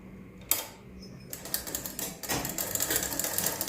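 A sewing machine stitches old saree fabric in quick bursts of rapid mechanical chatter, starting and stopping, then running steadily, close by.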